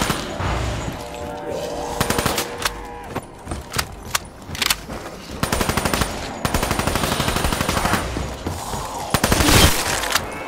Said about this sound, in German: Vielleicht sollten wir auf die Köpfe schießen.